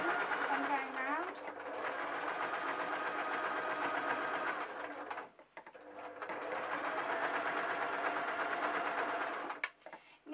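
A sewing machine stitches a sheep door stop in two long, fast bursts of rapid whirring, close and steady, separated by a brief pause and ending with a few short stops.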